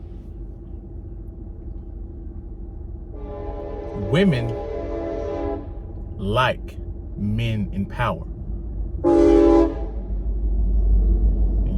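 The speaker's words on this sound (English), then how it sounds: "And you guys see that train coming across right there." A train horn sounds several times over a low rumble, with long tonal blasts standing out while someone talks throughout.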